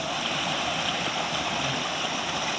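Water pouring over a weir in a rural canal in Isan, Thailand: a continuous, even rush of flowing water heard close by, with no talk.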